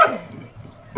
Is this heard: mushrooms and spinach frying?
no